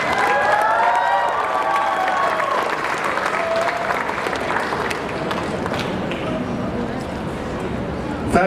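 A crowd claps and cheers at the Caribana 2019 kick-off outside police headquarters in downtown Toronto, sustained applause with scattered whoops that slowly thins out while a voice speaks over it.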